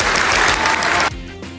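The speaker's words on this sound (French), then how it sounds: "je voudrais que vous leur réserviez un tonnerre d'applaudissements" Loud applause from an audience honouring young speakers at a youth pleading contest, a dense burst of clapping for about a second that cuts off abruptly, leaving a quieter room.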